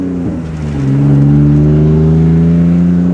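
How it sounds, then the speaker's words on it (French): An old BMW engine in a drift car revs hard through its exhaust, a deep, steady, throaty note that swells after a brief dip and then holds loud and close for several seconds. "Elle fait vraiment un joli son. Ah, les moteurs BM là comme ça, les anciennes."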